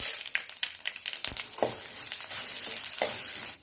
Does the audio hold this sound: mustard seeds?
yes